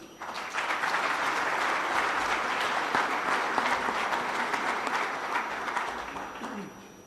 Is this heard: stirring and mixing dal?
no